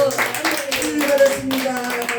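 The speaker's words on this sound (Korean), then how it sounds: "목사님께 박수" A church congregation at a Sunday morning service applauding the pastor, a dense patter of clapping hands mixed with voices and a sustained tone beneath.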